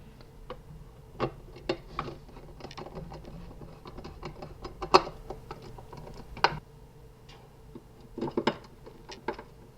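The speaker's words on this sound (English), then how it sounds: "you secure it into place in all the locations with MD06 screws. So just tighten those in." A screwdriver drives small MD06 screws into the chassis of a 1967 Shelby Mustang GT500 scale model car, producing a dense run of light ticks and clicks with occasional louder knocks, close up and without talk.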